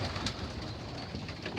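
Young racing pigeons coo in a busy loft, a dense, steady murmur of many birds heard close up with no talking.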